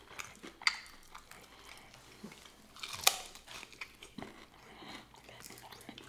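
Someone chews spicy Wingstop food, with soft crunching bites and chewing up close, a couple of sharper crunches standing out, and a voice faintly in the background.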